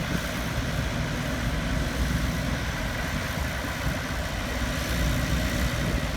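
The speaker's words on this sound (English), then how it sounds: "There's a nice tractor." A two-cylinder tractor idles at an outdoor tractor show parade, a steady close engine rumble running unbroken for the whole stretch with no talk over it.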